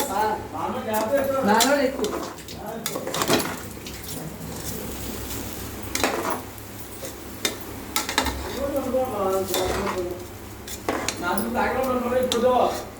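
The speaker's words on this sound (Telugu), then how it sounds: "ఉప్పు వేసుకుని బాగా కలుపుకోండి ఫ్రెండ్స్." Kichidi being stirred with salt in a pot, with scraping and clinking of a spoon against metal in bursts between stretches of a person talking.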